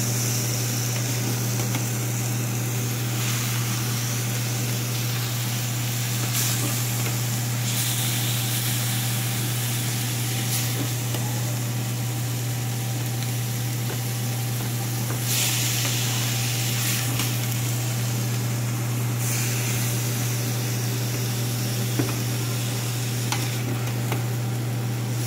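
Lean ground bison meat frying in a generous amount of ghee makes a constant, loud hiss and crackle, with occasional stirring scrapes and a low steady hum underneath, for a long unbroken stretch.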